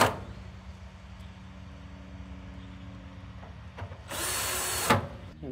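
A cordless power drill whirs briefly as it backs screws out of a Mr Cool mini-split condenser panel, one short burst near the end after a quiet stretch of faint background hum.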